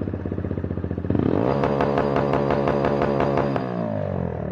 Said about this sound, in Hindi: अभी आप लोगों को एग्जॉस्ट साउंड सुनाते हैं